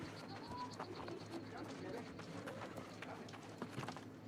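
In the video game New World: Aeternum, horse hooves clip-clop at a steady trot amid game ambience, with bird calls and faint talk mixed in the background.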